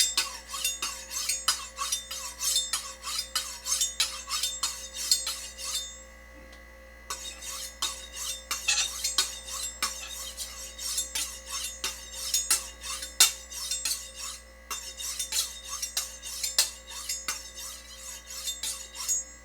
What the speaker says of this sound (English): Sometimes before you cook, it's a good idea to sharpen your knife.